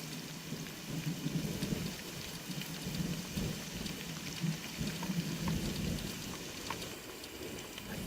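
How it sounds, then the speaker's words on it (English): Rain falls steadily in the Idaho outdoors while low thunder rumbles far off, the rolling rumble swelling and fading beneath the constant patter of drops, with no voices. "we're getting some rumblings of thunder off in the distance"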